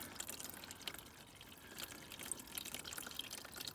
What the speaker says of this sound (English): open the old tap up, there she goes